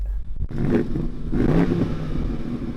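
A BMW M550i V8 engine revved up close by, a loud rising roar after a brief lull, held then easing, with no voices.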